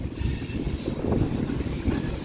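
Steady low rumble of a BNSF mixed freight train passing at Central Avenue, with wheel and car noise churning continuously close by and no voices.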